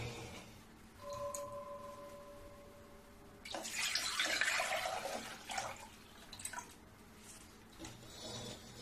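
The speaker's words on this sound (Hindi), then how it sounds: "अब ये दूध को मैं एक पतीले में डाल लेती हूँ।" Milk poured into a cooking pot in a home kitchen: a faint, steady liquid splash and gurgle that swells in the middle, with soft clinks and a short tonal hum near the start.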